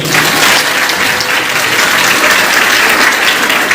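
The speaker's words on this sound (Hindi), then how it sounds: "ये ताली" A hall audience at a Buddhist women's conference in Hisar claps loudly and continuously, a dense, even wash of applause sustained throughout.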